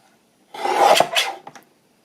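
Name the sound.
trimming paper for a Christmas craft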